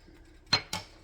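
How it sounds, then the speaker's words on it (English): A metal lid is set back onto a pot of cabbage roll soup, giving two quick clanks close by, the second slightly softer, in an otherwise quiet kitchen. "put the lid back on there"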